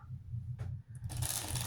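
Tarot cards shuffled by hand in several quick riffling and sliding bursts, close and fairly soft, growing into a busier, crisper flurry toward the end with no talking.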